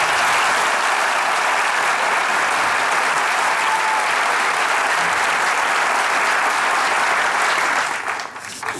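Dense, steady applause from a large studio audience at a Turkish comedy sketch show, sustained at full volume for several seconds before tapering off at the end.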